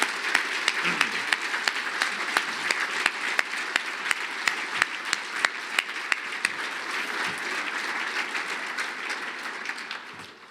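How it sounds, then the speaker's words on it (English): Breakfast event audience on its feet giving sustained applause, dense clapping with sharp individual claps standing out, steady for about ten seconds before fading slightly at the end. "let's give us one last standing room of applause and commitment to this effort"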